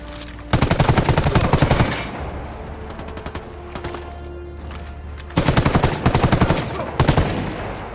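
Bursts of rapid automatic gunfire in the tactical shooter Ghost Recon Wildlands, loud close rattling volleys at the start and end with a quieter stretch between.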